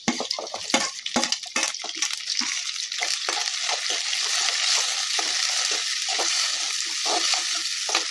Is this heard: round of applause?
no